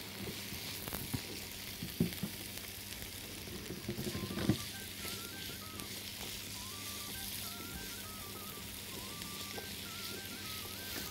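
Potatoes sizzling steadily in hot oil in a frying pan while being stirred, a constant close hiss and crackle with a couple of louder scraping stirs, a faint tonal whine running beneath.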